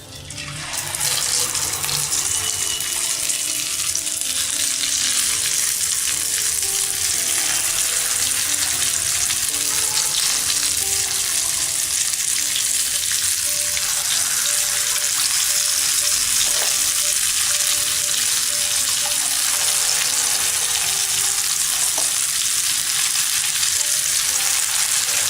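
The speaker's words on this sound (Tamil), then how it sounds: "இப்போ நம்ம வந்து பேட்டர் வந்து அதில் ஊற்றி பொரிச்சிக்கலாம்." Idli batter pakoda deep-frying in hot oil. A loud, dense, steady crackling sizzle runs unbroken throughout, with no voices.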